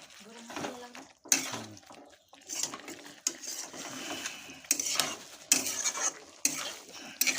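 Cauliflower masala being stirred in a pan with a little water, dry style: scraping and clinking of a utensil against the pan in bursts, with light sizzling and speech in between.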